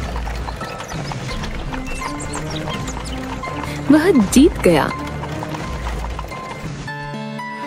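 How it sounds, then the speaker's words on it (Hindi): A horse gallops fast in a dramatized Hindi story scene: rapid clip-clop hoofbeats run steadily under continuous narration, with a brief louder burst midway that may be a whinny. "तभी तेज गति से दौड़ता हुआ एक घोड़ा आया और उससे बहुत आगे निकल गया।"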